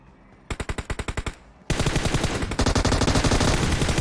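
Automatic gunfire in PUBG Mobile: a short rapid burst of evenly spaced shots, a pause, then a long loud sustained volley of rapid fire that continues to the end.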